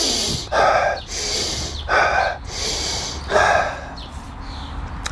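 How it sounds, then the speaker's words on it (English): A man demonstrates Wim Hof-style breathing: about four deep, forceful inhale-and-exhale cycles, loud and close, rushing in rhythmic bursts with brief pauses between them and no talking. "It's where you breathe in real deep, let it out, in, out, and then you hold your breath."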